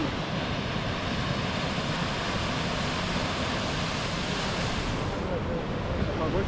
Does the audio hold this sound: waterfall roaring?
yes